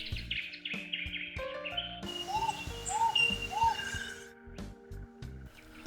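An Australian pigeon or dove from the eastern coastal ranges calling, three short rising hoots in a row, moderately near amid other birds and background chirps.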